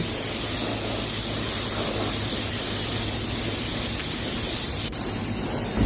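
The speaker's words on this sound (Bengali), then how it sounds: "এই যে হালকা হালকা কালার চলছে।" A spray gun applies light coats of paint to a broken motorcycle fuel tank side cover, a loud, unbroken airy hiss held close throughout, with no talk.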